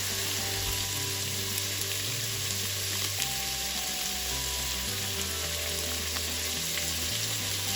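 Chicken cubes fry in a pan for chicken mandi, producing a constant broadband sizzle over a low steady hum.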